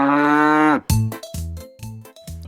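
A cow, heard as a comedy game-show sound effect, lets out one long, loud moo and then several short, clipped moos in quick succession with no talking.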